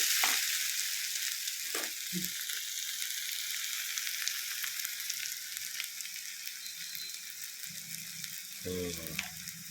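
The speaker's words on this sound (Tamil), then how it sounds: "உப்பு சேர்த்துட்டு இப்போ நம்ம வதக்கினோம்னாக்கா கொஞ்சம் சீக்கிரமாக வதங்கும்" Chicken frying in a pan with turmeric and salt, a steady bright sizzle running throughout at close range, with a few brief clinks and stirring knocks near the start and end.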